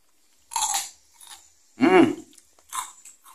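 Crunchy bites into crispy battered fried jengkol, three distinct crackling crunches with short chewing between them, close and fairly loud with no talking.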